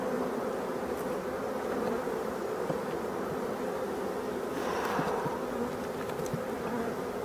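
Honeybees in a newly opened, occupied hive found abandoned, buzzing in a dense, constant swarm drone that stays loud and close throughout.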